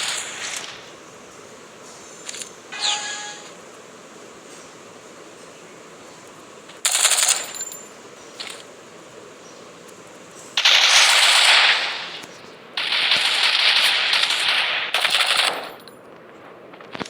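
Automatic gunfire rings out in a shooting video game as several sharp rapid-fire bursts of varying length, loud and separated by quieter gaps, with no speech.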